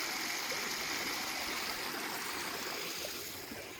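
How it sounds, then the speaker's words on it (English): A small waterfall cascades down toward a river on a forest trail rim hike, giving a steady, broadband rush of falling water that stays even and fairly close throughout, with no voices over it. "There's a little bit of a waterfall. Cascade, more like it."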